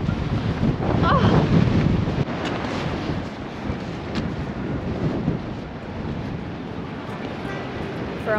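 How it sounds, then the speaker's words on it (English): Strong wind blows across a Belgian beach at Oostduinkerke during horseback shrimp fishing, with sand flying. Heavy, continuous wind buffeting on the microphone booms throughout, loudest early on, with no clear talk. "It's very windy and sand is blowing everywhere"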